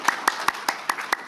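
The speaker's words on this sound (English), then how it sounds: "So I would just ask for a quick round of applause" A lecture audience clapping after a talk on the Maria Luz Incident, heard as six sharp, evenly spaced claps in just over a second, close and distinct rather than a full crowd roar.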